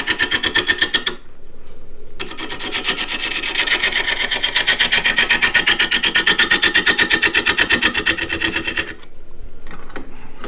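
A one-inch gouge scrapes across wood spinning on a small lathe, making a steady, loud, rhythmic rasping that pauses briefly near the start and then runs on continuously.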